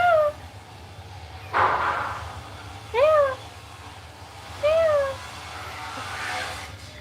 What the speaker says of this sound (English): There's a cat over there.